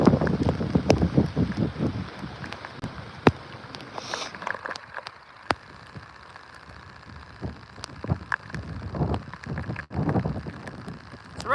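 Gusty hurricane wind and rain lash an outdoor spot in Charleston, South Carolina, during Hurricane Ian: loud buffeting microphone wind with spattering rain that eases midway and then surges again, and no talking.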